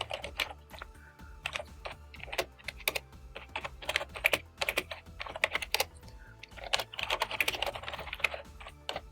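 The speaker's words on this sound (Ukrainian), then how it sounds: "Вводимо текст підпису" Quick, light tapping on a computer keyboard as an email signature is entered, with irregular clusters of key clicks heard close and alone over a faint low hum.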